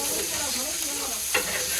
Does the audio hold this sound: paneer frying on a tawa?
yes